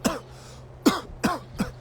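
A run of four short, harsh coughs, each a sharp burst with a brief rasp, spaced roughly half a second apart and heard close up with no talking.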